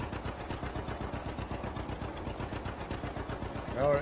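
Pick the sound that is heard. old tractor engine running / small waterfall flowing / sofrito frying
old tractor engine running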